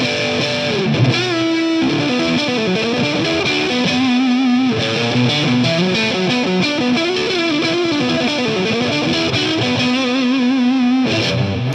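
Distorted Gibson Les Paul Studio electric guitar with its humbuckers coil-split, strumming and playing riffs with sustained chords and single-note lines, loud and continuous with no talking, ending abruptly.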